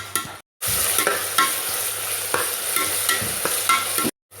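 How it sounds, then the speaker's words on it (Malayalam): Onions stirred and frying in hot oil in a pot while cooking chicken biryani, a steady close sizzle with scraping spoon strokes throughout, briefly cutting out near the start and end. "നന്നായി ഇളക്കി കൊടുക്കുക."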